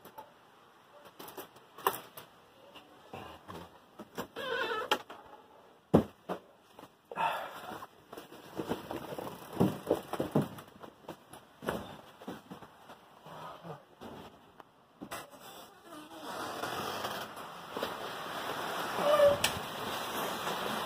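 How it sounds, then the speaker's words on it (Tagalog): Strong typhoon winds from Ulysses batter Angeles City, Pampanga, in loud, uneven gusts and buffeting bursts that rise and fall, with rattling clatter around them. "Hindi biro-biro itong hangin na to."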